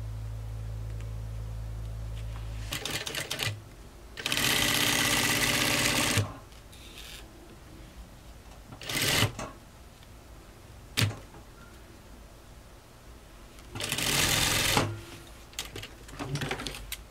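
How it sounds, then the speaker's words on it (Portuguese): A sewing machine stitches a 1 cm folded hem on a button-front godet skirt, running close by in several separate bursts. The longest burst lasts about two seconds, and quiet pauses fall between the runs. "Dobra 1 centímetro e costure."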